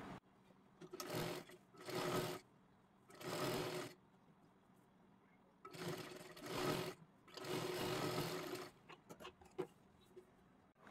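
A sewing machine double-stitches a kurti sleeve in short bursts, about five runs of rapid whirring stitches separated by quiet pauses and small handling clicks, close but fairly soft.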